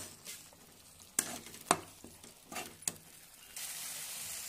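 Chilies being stirred into a spicy tomato chicken masala in a pan, with a few sharp scraping strokes over a soft sizzle and a louder hiss rising at the end.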